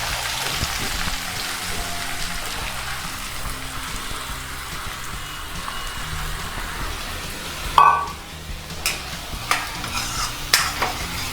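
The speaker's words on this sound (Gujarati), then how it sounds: "ડુંગળીને ગોલ્ડન બ્રાઉન થાય ત્યાં સુધી સારી રીતે ચડવાની છે।" Chopped onion fries in hot oil with mustard seeds, cumin and asafoetida, giving a continuous crackling sizzle under steady stirring, with a sharp clink of a utensil against the pan partway through.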